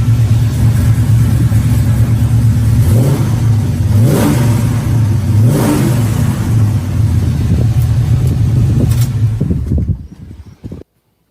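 A restored frame-off truck engine runs loud and close, revving up and down in several surges over a steady idle, then cuts off abruptly near the end, with no talking.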